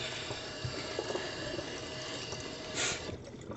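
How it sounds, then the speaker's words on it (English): Cold water runs steadily from a tap over a raw turkey being rinsed, a continuous close splashing hiss with small shifts as the bird is moved under the stream. "And I've rinsed my turkey,"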